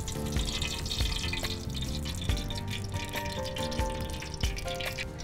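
Tap water runs steadily while something is rinsed at a kitchen sink during preparation of a Kerala coastal-style tuna curry, a continuous close splashing with small drips, no voices.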